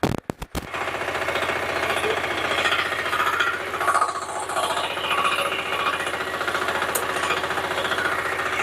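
A power tiller's engine running in first gear, a loud steady rapid knocking chug that carries on without pause, close by, after a few sharp clattering bangs at the start.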